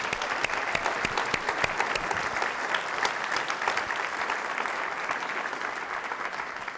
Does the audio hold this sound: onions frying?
no